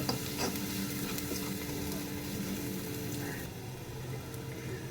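Onion fries with asafoetida in a pan, a dense close sizzle with rapid scraping and rattling of the stirring spoon, easing slightly toward the end, with no talking.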